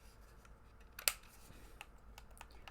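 A single sharp click from a button pressed on a Turtle Beach Stealth Pivot gaming headset, close and crisp, followed by a few fainter small clicks and handling ticks against a quiet background.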